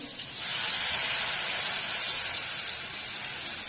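Water poured into frying mango masala spice paste in a Bangladeshi village kitchen bursts into a loud, steady hissing sizzle that starts abruptly and continues without fading.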